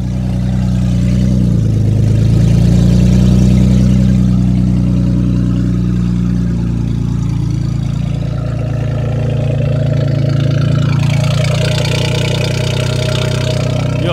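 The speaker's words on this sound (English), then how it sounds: "So I just gutted my cat converters on my 2015 Ford Taurus Limited, and now this thing sounds like a lawnmower." A 2015 Ford Taurus Limited idles with its catalytic converters gutted and the downpipe cut, giving a loud, steady, rough exhaust drone that runs close and continuous for the whole stretch, with no talk over it.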